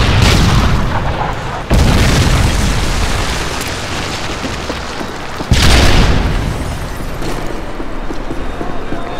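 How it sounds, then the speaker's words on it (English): Loud booming explosions from a Predator missile strike in the video game Modern Warfare 3, on the Seatown map, with two heavy blasts followed by a long rumbling roar of chaotic battle noise. "Predator missile inbound."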